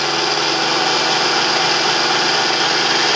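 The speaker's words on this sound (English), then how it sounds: "So now I'll turn the magnet on, and then the spindle turns." VEVOR magnetic drill press motor runs with its spindle turning, a loud, steady high-pitched whine and hum with no pauses.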